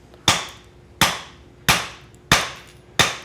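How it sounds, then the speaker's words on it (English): Five sharp hammer strikes land at a steady, roughly even pace, a two-pound hand hammer driving a thin stone veneer hammer to lightly chisel a stone high spot, each crack close and ringing briefly before decaying. "I'm going to do that using our thin stone veneer hammer and a 2-pound hand hammer"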